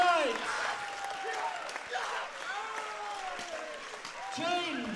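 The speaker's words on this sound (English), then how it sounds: "And the crowd goes wild" A crowd at a world equipped powerlifting championship applauds and cheers after a successful lift, clapping under voices talking over it.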